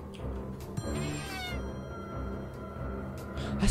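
A cat meows in the video game Friday the 13th Killer Puzzle, giving a short whining caterwaul over dark game ambience, fairly close and brief, with no talk over it.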